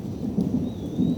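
Low thunder rolls and rumbles through a thunderstorm on a day a tornado hit, with steady rain underneath; it is moderately faint and continuous, with no one talking.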